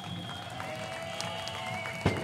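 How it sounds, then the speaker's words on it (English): Crowd applause and cheering at an outdoor protest rally march, a steady wash of many hands clapping at moderate distance with one louder sharp burst near the end. "A round of applause for yourself."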